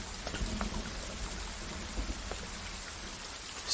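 Light rain patters steadily in a film scene, a soft, constant wash of drops with a few sharper ticks, fairly quiet and heard on its own.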